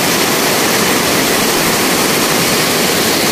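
A flooded river rushes hard, its loud, dense roar of churning water close and constant without a break.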